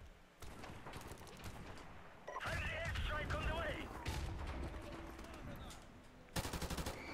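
Automatic gunfire in Modern Warfare Remastered, bursts of rapid shots with a loud burst near the end amid noisy in-game combat sounds.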